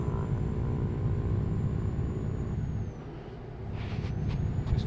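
A heavy truck in Euro Truck Simulator 2 rolls downhill in 10th gear with a low, steady engine grumble, a faint high whine above it, and a slight dip and lift in level.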